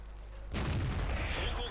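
A tank cannon fires in World of Tanks, a Type 61 in play, giving a sudden heavy boom that rolls into a sustained rumbling blast with a talking voice mixed in.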